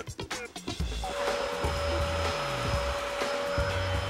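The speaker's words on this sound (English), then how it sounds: "Get the vacuum." A household vacuum cleaner runs steadily indoors, a broad continuous whine with a sustained tone, starting after a few brief knocks and staying loud and unbroken to the end.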